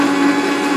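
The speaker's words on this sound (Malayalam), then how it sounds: "ഇനി നമുക്ക് ഇത് മിക്സിയിലിട്ട് അരച്ചെടുക്കാം" A kitchen mixer grinder whirs loudly and steadily as it grinds Parle-G biscuits with sugar and cardamom, a brief, even motor drone.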